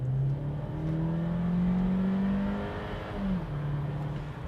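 A 2021 Audi Q2 35 TFSI engine pulls steadily under acceleration, a loud, close drone rising in pitch, dipping briefly as a gear changes, then climbing again.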